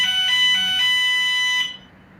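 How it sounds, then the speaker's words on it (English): A fire alarm blares loudly indoors: a steady high-pitched electronic tone with a few brief pulses, running nonstop for about a second and a half before it cuts out to quiet room noise. "'Cause my fire alarm's going off."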